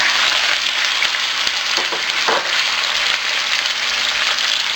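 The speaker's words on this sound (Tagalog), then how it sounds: "Magpapainit lang tayo ng cooking oil dito sa wok. And then, ilalagay na natin dito yung chicken." Chicken frying in hot cooking oil in a wok, a loud, dense, continuous sizzle with a few faint pops and stirring scrapes, close up and without talk.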